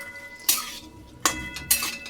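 Walnuts dropped into a pan over a low flame while making khajurpak, the date sweet, giving three short clinking rattles spaced apart, close and fairly quiet.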